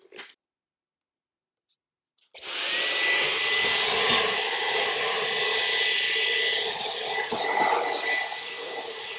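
A Dyson V15s Detect Submarine cordless vacuum cleaner switches on after a couple of seconds of silence, then runs with a loud, steady, close-up whine and rushing airflow that holds for the rest of the clip.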